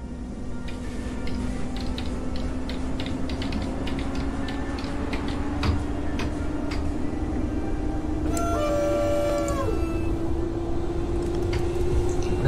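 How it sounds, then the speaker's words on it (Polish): An EP07P electric locomotive in the MaSzyna train simulator game sounds its horn, a rising multi-tone blast near the end, over a steady motor hum and rapid ticking of rolling wheels, with no talk. "Naprawdę fajne sygnały ma ta lokomotywa."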